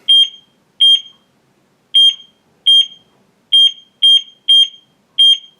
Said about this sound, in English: The phone beeps loudly while it's doing this EKG measurement.